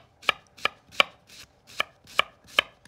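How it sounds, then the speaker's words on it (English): A knife slices shallots on a cutting board in seven crisp, evenly spaced chops, close and clear with no talk. "we're just gonna slice down some shallots"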